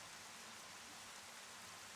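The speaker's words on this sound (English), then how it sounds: "And it's raining." Steady, hissing rainfall in the video game Zelda: Twilight Princess at Hyrule Castle, a uniform broadband wash with no breaks, heard alone and fairly quiet.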